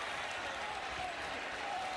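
A football stadium crowd at a college game roars and applauds in a dense, continuous wash of cheering after a penalty flag.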